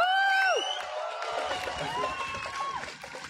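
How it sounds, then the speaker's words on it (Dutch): An audience at a speakers' rally in Apeldoorn claps and cheers for the speakers, a crowd's applause and whoops rising after a whistle-like tone and continuing evenly. "Dus nogmaals, groot applaus voor Duncan en Laura."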